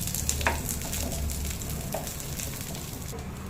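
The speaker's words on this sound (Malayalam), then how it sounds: "ഒന്ന് സോഫ്റ്റ് ആകുന്നവരെ ഒന്ന് നന്നായിട്ടൊന്ന് വഴറ്റിയെടുക്കാം." Brinjal chutney masala being sautéed and stirred in a pan until soft, a steady low frying sizzle with occasional spoon scrapes and clicks, close and continuous with no talking.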